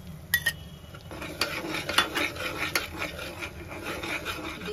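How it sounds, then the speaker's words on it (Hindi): Masala roasting in a pan for chole, stirred with a spoon that scrapes and rasps against the metal in irregular strokes over a low, steady sizzle, near and moderately loud. "अब हम ये मसाला इसमें ऐड कर देंगे और हम इसे भी अच्छे से भून लेंगे"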